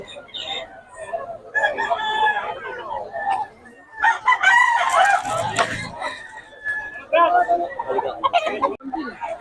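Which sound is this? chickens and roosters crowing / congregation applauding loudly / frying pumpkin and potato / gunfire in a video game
chickens and roosters crowing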